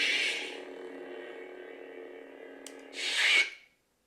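A toy Darth Vader lightsaber plays its phaser ignition effect: a bright crackling burst, a steady electronic hum lasting a few seconds, then a second crackling burst before cutting to silence, close and clear.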